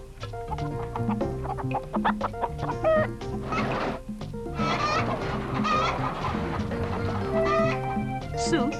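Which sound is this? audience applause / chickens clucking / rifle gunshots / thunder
chickens clucking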